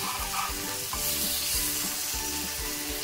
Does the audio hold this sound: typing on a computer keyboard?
no